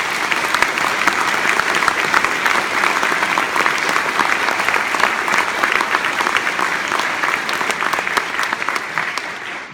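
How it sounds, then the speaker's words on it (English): A concert audience gives a student wind band a sustained round of applause, loud dense clapping from a large crowd in a hall, steady throughout and easing slightly at the end, with no talking. "Let's give the students another round of applause."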